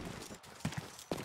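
Horse hooves clip-clopping in the video game Rustler, a few quick, sharp hoof strikes in uneven rhythm against a busy game soundscape.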